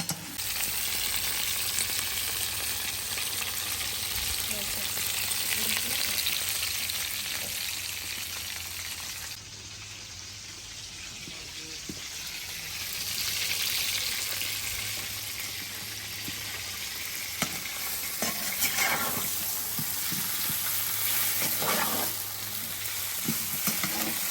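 Garlic and vegetables sizzle and crackle steadily in hot oil in a kazan, with occasional stirring scrapes; a continuous close frying hiss, no talking.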